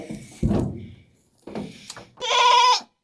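A goat kid shut inside a leopard trap cage gives a loud, close bleat near the end, after a couple of thumps and knocks from the metal cage.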